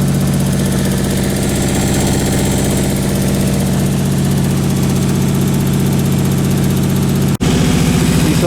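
A Nissan 300ZX engine idles steadily and loudly up close with a low, even rumble, cutting out abruptly for an instant near the end before carrying on.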